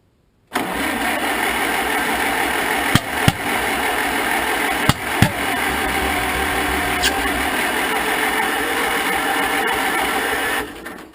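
A 1947 Farmall M tractor, just rebuilt, cranks and runs roughly with its engine churning steadily, broken by several sharp pops and backfires from the exhaust, loud and close before cutting off.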